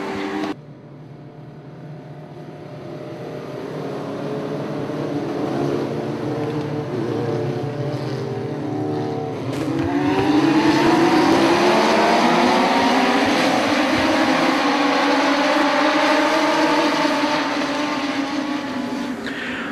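Legends race cars circling Desoto Speedway on a restart, a roaring pack of engines swelling and droning with rising pitch sweeps as cars pass, loud and continuous with no voices.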